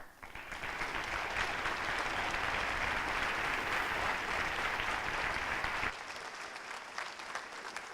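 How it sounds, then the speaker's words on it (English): An audience claps in sustained, dense applause at a school event with Magic Johnson, steady and full for several seconds before dropping to a thinner level. "please stand up and give a round of applause as well"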